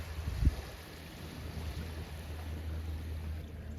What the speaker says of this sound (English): Feet in the sand, cold sea on my skin, and a constant hush of the water.